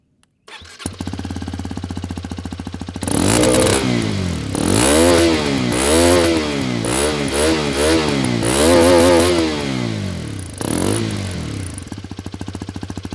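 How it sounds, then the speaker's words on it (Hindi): A Hero Xpulse 210 motorcycle engine fires up and idles, then is blipped through a series of sharp, rising and falling revs before settling back to a steady idle, loud and close with no talking. "आपको इसका एग्जॉस्ट नोट सुनाता हूँ"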